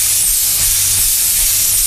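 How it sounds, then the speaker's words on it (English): Steam hisses loudly and steadily from a Port Huron steam engine, a dense, close, continuous rush with a low mechanical rumble beneath it. "See, now the steam's getting a little drier"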